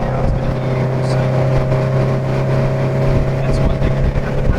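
The Cosworth-supercharged FRS drives on the Harris Hill Raceway track, giving a steady, loud, droning engine note with constant whine and road roar and no breaks.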